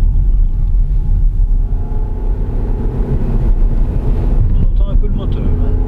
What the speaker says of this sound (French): On entend un peu le moteur.